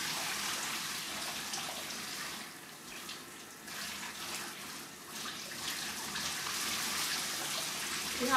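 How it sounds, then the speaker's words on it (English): Steady rushing hiss of cold water running from a tap as a rinse, fairly constant with slight swells and splashes. "Just a quick cold rinse."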